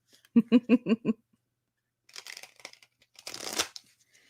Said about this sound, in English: All right, I'm shuffling these cards.